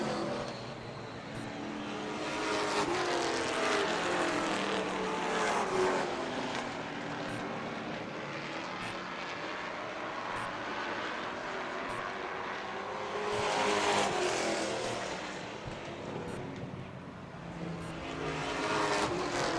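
Late model stock cars roar around a loose dirt track at a feature race, a continuous loud engine drone that swells and fades as the pack passes, with no talking.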